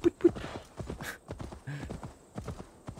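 A horse's hooves clip-clop in a steady galloping rhythm in the video game Assassin's Creed Valhalla, fairly close, with a short whinny partway through and faint game sounds around it.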